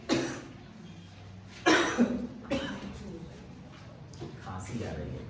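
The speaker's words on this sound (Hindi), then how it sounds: "खांसी आ रही है" A cough breaks into a classroom lesson, with a sharp burst near the two-second mark and softer follow-up coughs or throat clearing amid low room noise.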